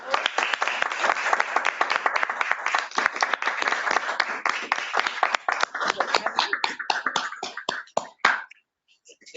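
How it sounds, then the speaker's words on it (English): An audience at a competitors' symposium panel breaks into dense, energetic clapping that holds for several seconds, then thins out into a few scattered claps before stopping. "Can we give a big hand of applause for"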